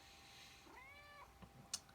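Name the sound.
cat meowing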